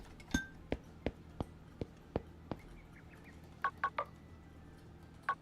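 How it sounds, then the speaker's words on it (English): Birds chirping in a horror video game, a series of sharp, distinct calls spaced at irregular intervals, with a few quicker chattering bursts later, over a faint steady background hum. "There's bird sounds."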